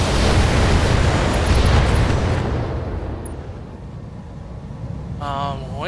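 Heavy weapons fire from a BattleTech mech striking an enemy: a sustained, loud roaring blast that rumbles and slowly fades, with a voice briefly heard near the end.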